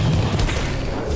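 Flamethrower-style fire weapon torching an enemy in Dead Space, a dense, steady roaring rush with low rumble and crackle that runs unbroken at high level for the whole stretch.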